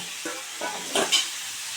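Cauliflower florets, blanched first in hot salted water, fry in oil in a pan: a soft sizzle broken by a few short scraping stirs, close and clear.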